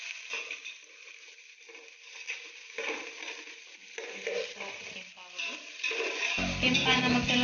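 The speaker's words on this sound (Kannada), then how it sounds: "ನೀರುಳ್ಳಿ ಪಾಡು ಕೆಂಪಾವು" Onions fry in a pan with a steady sizzle. Stirring and scraping sounds rise and fall over it, and the frying grows louder toward the end.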